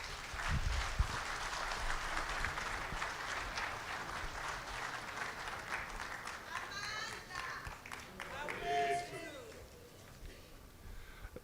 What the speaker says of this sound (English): The round of applause might not get to South Africa.